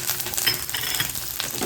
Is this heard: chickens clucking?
no